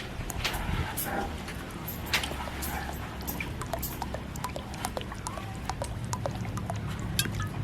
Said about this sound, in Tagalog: Ilalagay natin yan sa tubig. At siyempre, mantika. Maraming mantika.